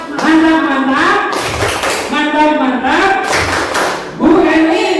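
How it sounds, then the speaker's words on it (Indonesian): A group performs the rhythmic 'tepuk mantap' clap during a school teachers' dissemination session, sharp patterned claps and thuds mixed with voices chanting along in unison, loud and close. "tepuk mantap untuk Bu Erlin"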